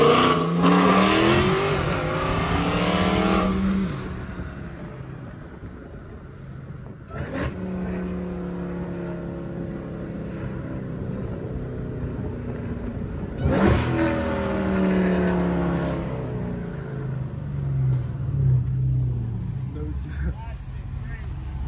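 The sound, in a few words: Dodge Hellcat engine revving and accelerating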